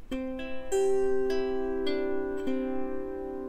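A plucked lyre plays a slow, ringing melody of several notes, each left to sustain and overlap, ending on a lingering tone.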